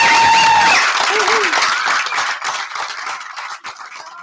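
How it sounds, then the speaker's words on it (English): Applause and cheering from family, teachers and friends at a school presentation event, a burst of clapping that starts loud and gradually thins out, with a brief whistle or whoop near the start. "hear the cheering of your family, teachers, and friends"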